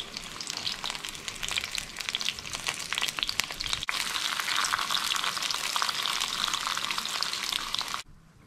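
Steady crackling sizzle of onions frying in a pan, continuous and fairly loud, with a brief dip midway before cutting off near the end.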